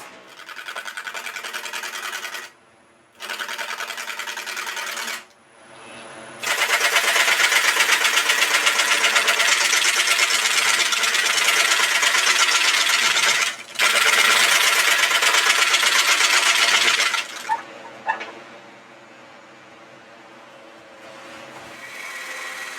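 A wood lathe turns a wet walnut crotch bowl as the bottom is hogged out, giving a loud, steady broadband whir of cutting in long sustained runs broken by short pauses, then a quieter motor hum with occasional taps.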